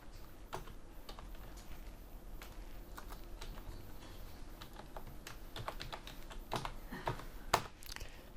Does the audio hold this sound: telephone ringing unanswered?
no